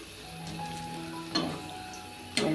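Chicken puffs fry in hot oil in a pan with a steady soft sizzle, plus a couple of brief clinks or stirs of a utensil, quiet and close with no talking.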